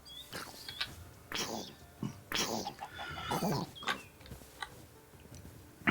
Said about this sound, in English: You're free, chicken. Go enjoy yourself.